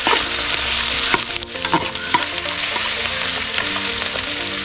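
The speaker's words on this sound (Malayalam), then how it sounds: "അടുത്തത് ഇഞ്ചിയും പച്ചമുളകും കൂടെ ഇതിലിടയാണ്. നമ്മൾ നന്നായിട്ട് ഇത് ഇളക്കി കൊടുക്കുന്നു." Garlic, ginger and green chilli frying in a pan for a toddy-shop fish curry, a loud continuous sizzle with scattered clinks and scrapes of a stirring spoon up close.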